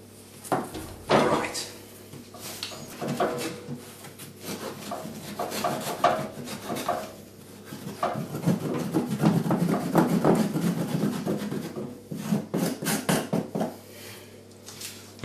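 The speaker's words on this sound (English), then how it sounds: "so you can just sand it off." Sandpaper rubs along the bevelled edge of a modular trench base, a steady rasping scrape in repeated back-and-forth strokes that builds and fades, close and fairly loud, with no talking.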